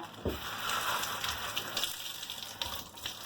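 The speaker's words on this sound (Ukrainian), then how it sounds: "Для того, щоб наш пергамент гарно ліг у деко і прийняв його форму, його треба пожмакати, а потім змочити водою" Crumpled baking parchment soaked in water is squeezed and wrung out by hand, giving a steady wet crackling with splashes and drips that runs the whole time. No one speaks.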